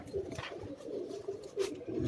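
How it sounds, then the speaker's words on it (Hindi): A Lakha pigeon on a Karachi rooftop coos close by in several soft, low, throaty calls spread across a couple of seconds, with light background noise. "लाखा कबूतर है माशाल्लाह"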